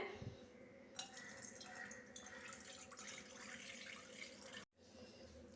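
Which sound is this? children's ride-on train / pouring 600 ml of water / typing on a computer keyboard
pouring 600 ml of water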